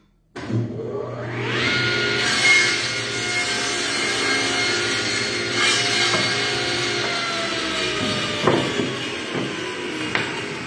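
Wood is sawn by hand while building a Mission-style desk, a steady run of rasping strokes with a few sharper catches near the end, close and loud, with no talk.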